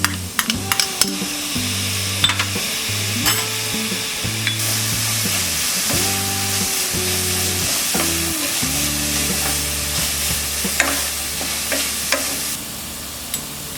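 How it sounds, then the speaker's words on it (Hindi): Green chilies and tomato sizzling in a pan with onions for oil-free poha, a steady close frying hiss broken by frequent scraping and clinking stirs of a spoon. "अब हम इसमें डालेंगे ये ग्रीन चिलीज और ये टमाटर"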